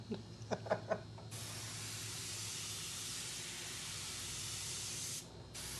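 An airbrush sprays paint onto a hoodie with a steady, close hiss lasting about four seconds. A short pause follows before the spray resumes, and a few soft clucks sound faintly at the start.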